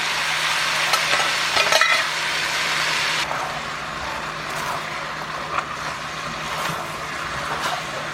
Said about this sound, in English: You're going to mix that until it's well incorporated.